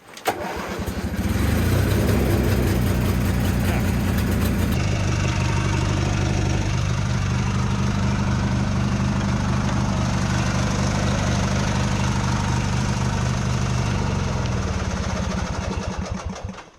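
A mini-tractor engine turns over and catches, then settles into a steady, rumbling idle as it warms up. The low, chugging drone runs loud and close throughout, dropping off only at the very end.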